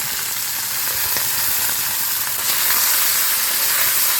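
Small mourala fish frying in mustard oil in a nonstick pan, a dense, steady sizzle that stays loud and close throughout with no talking.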